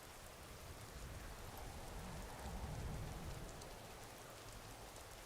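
Steady rain in Skyrim, using the Vivid Rain texture mod, patters and hisses evenly throughout, with no voices and no breaks.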